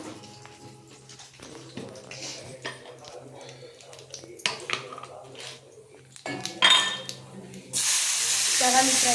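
Onions and tomatoes fry in a pan, with intermittent sizzling, utensil clatter and stirring under speech, then a loud, steady hiss of frying at the end.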